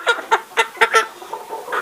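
Chicken clucking in a quick series of short, bright bursts at a poultry shop, fairly close and clear with no talking.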